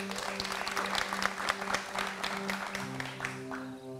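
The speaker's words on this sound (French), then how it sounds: "Applaudissez pour la lumière." A crowd at a village chieftaincy gathering claps in scattered, uneven rhythm, heard fairly faintly beneath a steady droning tone, with a few louder claps standing out.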